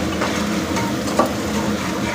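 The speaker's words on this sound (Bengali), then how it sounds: "এই দিয়ে এবার মশলাটা ভালো করে কষিয়ে নেব" Tomato, salt, turmeric and cumin masala sizzling and frying in a pan while being stirred, a steady close hiss with soft scraping stir sounds throughout, no voices.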